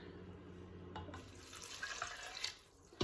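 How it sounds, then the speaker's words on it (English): Water pours from a tap into an Instant Pot holding rinsed beans, a steady close splashing stream that grows fuller as the pot fills, then cuts off at the end. "now I'll go ahead and add my water."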